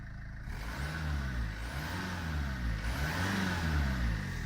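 A Renault Kangoo 1.5 dCi diesel van engine idles and revs, its mid-pitched drone rising and falling in gentle swells, heard up close and fairly steady with no talk.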